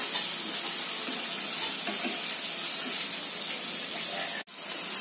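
Chopped onion sautés in a pan for Schezwan noodles, giving a steady, close, dense sizzle that holds evenly for several seconds, with a brief dropout near the end.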